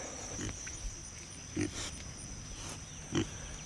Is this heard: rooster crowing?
no